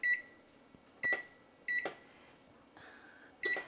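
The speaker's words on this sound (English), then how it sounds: "And I will set the timer here." An oven control panel gives five short, clear electronic beeps at uneven intervals as the timer is set, close and moderately loud over faint background noise, with no talking.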